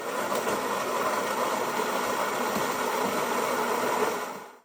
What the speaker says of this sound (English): So this is one of the quietest machines with a really reduced grinder noise.